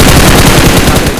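Loud, rapid automatic gunfire from a mobile shooter video game, a dense continuous burst of shots.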